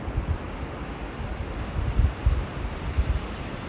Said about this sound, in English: Supposedly that wind's supposed to die down in the afternoon.